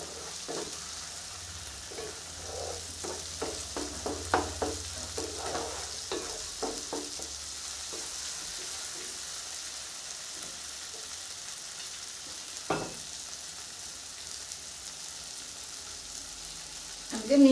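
Spices with half a spoon of Kashmiri red chilli powder sizzle and crackle steadily in a pan while being stirred for a vegetarian mixed-veg dish, with scattered scraping clicks and one sharp knock near the end.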